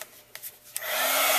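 A heat tool whirs on and settles into a steady, loud airy blow while drying embossing powder on a paper craft, preceded by a few soft handling taps.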